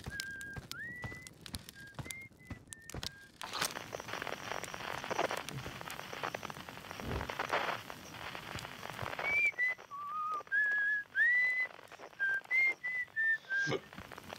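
A character in Outer Wilds whistles a short, wavering tune in bursts, first alone, then after a stretch of soft rain-like patter and rustling ambience, with the whistling returning in brief repeated phrases.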